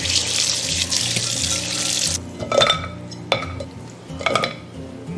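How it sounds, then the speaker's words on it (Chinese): Boiled chicken feet are rinsed under a running kitchen tap. A loud, steady rush of water fills the first two seconds, then stops and gives way to close wet handling and a few clinks against a bowl or sink. "我们再次给它冲洗干净。"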